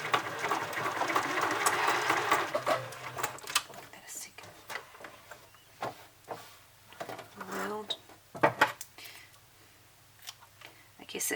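A sewing machine stitching a stuffed toy pig with right sides together runs in bursts, a dense mechanical whir early on, then short intermittent runs and clicks as a person talks over it.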